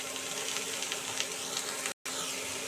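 Homemade atta noodles frying with soy sauce in a pan, a steady close sizzle with no speech, cut by a brief moment of silence near the end.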